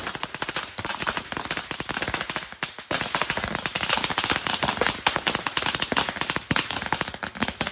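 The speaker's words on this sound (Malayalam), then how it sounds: "200 പടക്കം ഒരുമിച്ച് അങ്ങോട്ട് പൊട്ട്" A string of 200 firecrackers set off for Vishu crackles in a rapid, dense, loud volley of bangs that continues with barely a pause.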